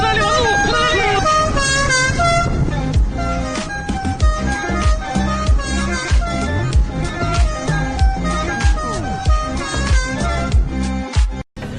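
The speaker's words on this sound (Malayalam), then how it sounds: "മുതലാളിയുടെ വണ്ടിയുടെ ഹോൺ ഈസ് കമ്മിങ്." A monster truck's air horn honks in loud, tuneful multi-tone blasts that repeat almost without a break, with voices talking over the horn throughout.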